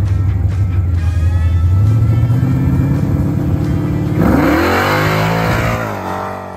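A Chevrolet Malibu drag car makes a pass, its engine loud and close, holding a steady drone before climbing hard through revs and shifting, then the roar fading off.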